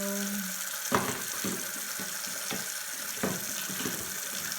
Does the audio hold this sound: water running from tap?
yes